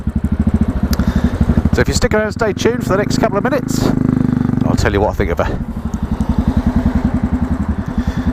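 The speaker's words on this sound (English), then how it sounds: "This particular bike has a straight through pipe fitted, so it really is a thumper. It sounds fantastic." Royal Enfield Classic 500 single-cylinder 500cc motorcycle fitted with a straight-through exhaust. Loud, close, rapid thumping idle with an even beat, briefly masked by someone talking in the middle before the chugging returns.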